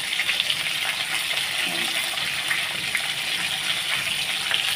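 Water poured into a Bengali fish curry simmering in a pan, a steady broadband gush and sizzle running without a break at an even, fairly loud level from start to end.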